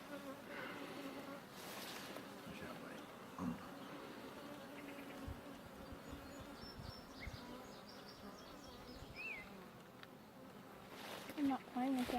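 Bees buzzing on a ranch, a steady faint drone with occasional louder passes close by, while people talk quietly in the background.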